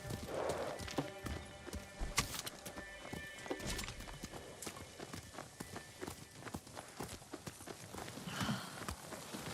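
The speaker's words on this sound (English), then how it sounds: "Horses." Horse hooves clip-clopping in the video game Ghost of Tsushima, a steady rhythmic trot of several close hoofbeats running throughout, set over a background music bed, with a brief whinny and a faint voice.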